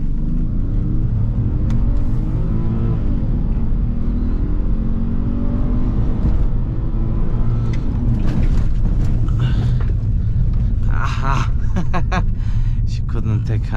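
A BMW 530 accelerating hard during a 0-100 km/h run, its engine drone steadily climbing in pitch under cabin noise, with a person talking over it and clicking sounds toward the end.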